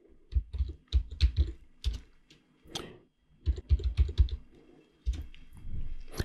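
Brisk, close typing on a computer keyboard to clear a terminal screen on an Ubuntu or Debian server, with uneven bursts of key clicks and short pauses.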